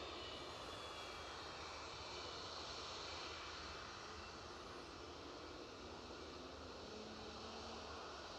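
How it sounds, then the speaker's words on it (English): Airliner with Rolls-Royce RB211 engines departing Edinburgh Airport, a loud, steady broadband jet roar that holds evenly for the full length with no talk over it. "So a bit of RB211 concerto coming your way. Quite a stately departure, isn't it?"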